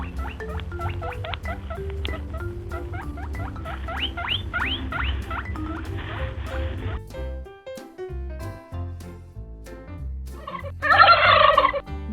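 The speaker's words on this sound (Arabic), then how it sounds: "ديك رومي." Turkey gobbling in rapid rattling bursts over a steady farmyard background, with further fowl calls and a sharp shrill cry near the end, fairly close and clear.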